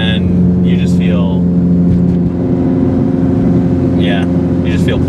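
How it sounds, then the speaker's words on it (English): A Toyota Beatrush car engine drones steadily with a low exhaust rumble while driving, loud and continuous, with someone talking over it. "The exhaust sounds great"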